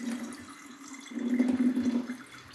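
Rice being rinsed by hand in a bowl of water for pork-fried rice, giving soft continuous sloshing and swirling that swells louder midway, close and alone.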